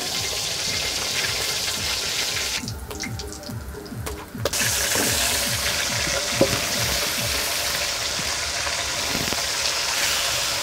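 Pomfret (rupchand) fish frying in oil in a wok, a steady broadband sizzle and hiss running throughout with a brief quieter patch midway and occasional clinks.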